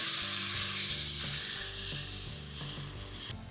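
Steady, dense sizzling of grated carrot and bottle gourd frying in a pan for a sweet, with a few soft scrapes of stirring mixed into the continuous hiss.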